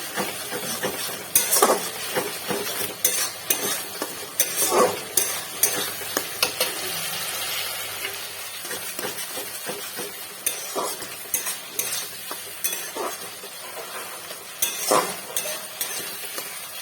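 Spice paste frying in oil while being stirred, with a close sizzle broken by frequent spoon scrapes and clanks against the pot, uneven and busy, no talking.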